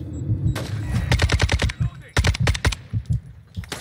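Automatic gunfire in Call of Duty: Warzone 2.0 comes in two sharp rapid bursts of close, loud shots with short pauses between them and a few single shots after, while a voice talks underneath.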